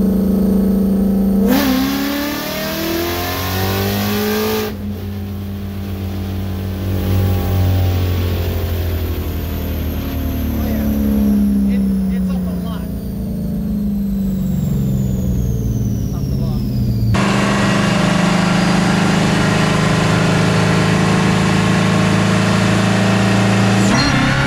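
A Coyote-swapped Ford Fairmont Foxbody with added boost revs hard toward 6,000 RPM, its loud, close engine note climbing steadily with a rising whine, then dropping back and surging again in a dense, continuous roar.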